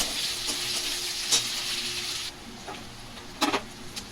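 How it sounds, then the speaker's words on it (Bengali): Diced onion fries in a little oil in a wok, a soft steady sizzle that drops quieter halfway through, with a few light scrapes and knocks of a stirring utensil nearby. "এবার আমি চৌকো করে কেটে রাখা পেঁয়াজটা একটু হালকা করে ভেজে নেবো"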